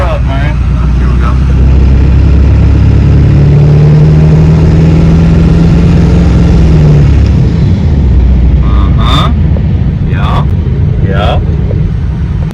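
An old Ford 7.3L Powerstroke diesel pickup runs loud and close, its engine drone steady throughout with a rising rev in the middle, while people talk over it.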